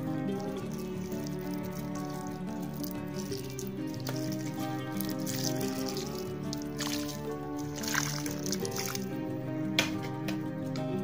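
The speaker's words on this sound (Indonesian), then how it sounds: "Kemudian kita siram secukupnya." Water poured onto the soil of a potted fig tree cutting, soft dripping and squishing close by, heard over steady background music.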